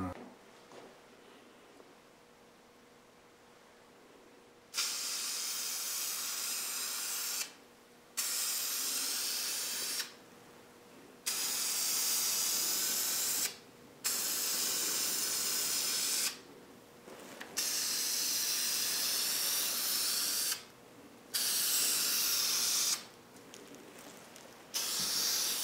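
Krylon Ultra Flat camouflage spray paint is sprayed onto model railroad rails in bursts: loud, close hissing blasts of several seconds each, separated by short pauses over faint background hum.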